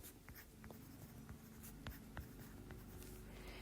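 Hand-written numbers for a net primary productivity calculation: pen strokes scratch and tap across a page in quick irregular bursts, close up against a steady low background hum, with no talk.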